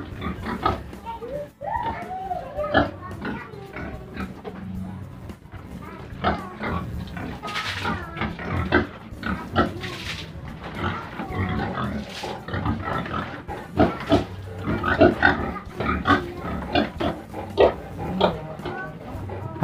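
Pigs on a farm grunt and oink steadily throughout, a dense, close chorus of short snorts and squeals with people talking underneath.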